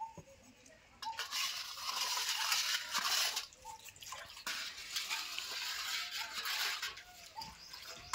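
Powdered sugar is stirred into milk for a watermelon sharbat, with a spoon clinking and swirling liquid in a bowl or jug, close and moderately loud, with a few brief taps.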